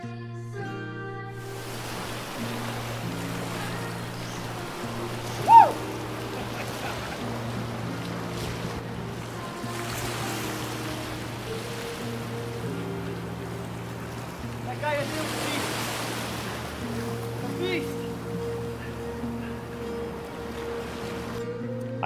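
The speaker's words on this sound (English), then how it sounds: "the ocean was wild" Wild ocean surf rolls onto the Galician coast in Spain, a steady roar of breaking waves with swells rising and falling, and a low tonal hum running underneath.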